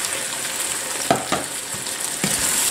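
Zucchini and minced meat fry in a pan as a little water goes in, giving a steady close sizzle with a few sharper bursts and stirring scrapes over about three seconds.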